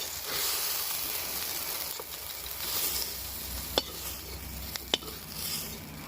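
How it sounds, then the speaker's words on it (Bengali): Fried prawns sizzle steadily in hot oil while a utensil stirs and lifts them, with a few sharp metallic clinks against the pan standing out over the continuous frying hiss. "এই যে চিংড়ি মাছ ভাজা আমার হয়ে গেছে, এবার আমি তুলে নিচ্ছি।"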